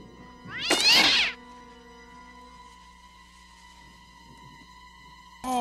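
Cat from the 1989 film Pet Sematary lets out a loud, drawn-out yowling meow with rising and falling pitch, then a long quiet stretch of low background hum before a second sudden cry cuts in at the end.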